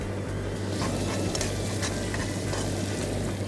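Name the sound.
butter melting and sizzling in a pan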